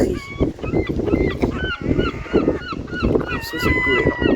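Seagulls crying near a boat, repeated short high calls, some loud and close, over steady engine and water rumble, with people talking throughout.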